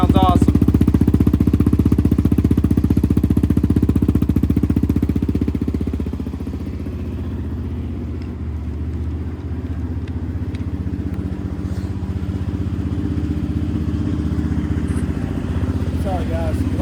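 A 2009 Yamaha Raptor 700R ATV engine idling with a brand new exhaust, a loud close throbbing rumble that drops slightly in level partway through and then holds steady.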